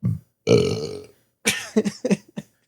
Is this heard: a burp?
yes